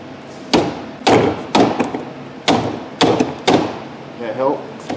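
Car AC condenser being banged to loosen its desiccant bag: a series of sharp, loud metallic thuds at uneven intervals, close up, with brief talk between hits.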